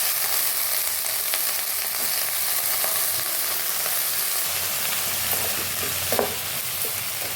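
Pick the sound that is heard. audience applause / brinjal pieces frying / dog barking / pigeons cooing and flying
brinjal pieces frying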